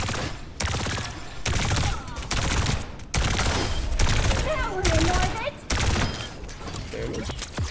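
Juno's burst-fire weapon in Overwatch 2 fires repeated rapid bursts, loud and close, with short pauses between volleys over game sound effects.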